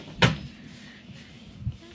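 A cabinet door in the bathroom of a 2021 Forest River Sunseeker 2860DS Class C motorhome gives a sharp close-up knock, then a softer thump near the end, with quiet room tone between.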